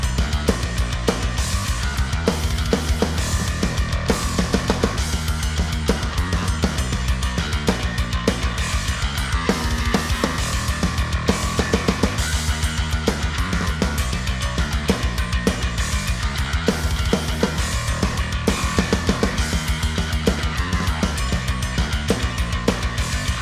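Dense, loud progressive metal with driving distorted guitars, bass and busy drums playing a tight, continuous riff throughout; no voices.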